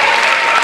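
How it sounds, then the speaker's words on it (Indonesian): An audience at a comedy show claps in a short, dense burst of applause with no voices over it. "tepuk tangan dong."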